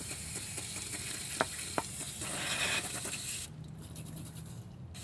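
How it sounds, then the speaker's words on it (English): Aerosol brake cleaner sprays hard into a greasy tie rod part, a steady close hiss with a couple of sharp knocks, then it cuts out and leaves a quieter background. "I'm basically just gonna spray the crap out of the inside of this with brake cleaner"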